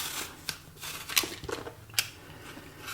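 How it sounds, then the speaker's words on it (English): Two eating apples being peeled by hand with a knife, a few soft scraping and slicing strokes with small clicks, close and quiet, with no talking. "I have 2 lovely eating apples which I'm peeling"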